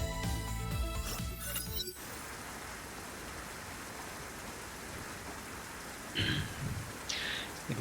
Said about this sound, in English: Merciless rain poured down